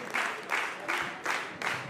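Concert audience applause at a choro quartet show, clapping swelling in five rhythmic waves, fairly close and full, with no voices over it.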